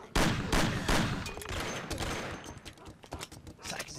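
Gunfire in Mafia 1 sounds as sharp repeated shots, several loud cracks early and then a rapid spatter of quieter rounds, close and with no one speaking.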